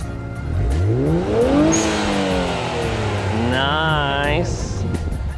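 A Nissan GTR engine revving through rising and falling pitch sweeps, close and loud, with the blow-off valve giving a short hissing release near the end.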